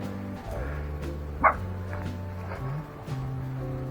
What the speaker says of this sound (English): What are you barking at, Otis?